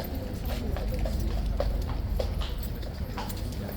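A King's Guard horse's hooves clip-clop at a steady walking pace on a hard surface, close and fairly loud over a constant background hum.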